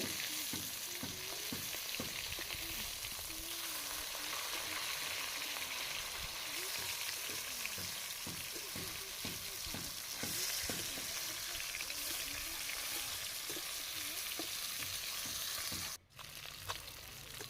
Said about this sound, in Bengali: মাছের একটা দিক আমার ভাজা হয়ে গেছে আমি উল্টে দেব অপর দিকটা ভাজার জন্যে